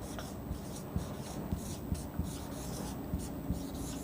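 Something writes a number on a board for a children's abacus maths lesson, giving soft scratchy rubbing strokes with a few light taps, faint and close, with no talking.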